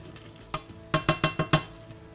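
Potatoes frying in a pan for aloo posto, stirred now and then: a soft sizzle bed broken by one scrape, then a quick run of five sharp utensil strokes against the pan, close and fairly loud, with no talk.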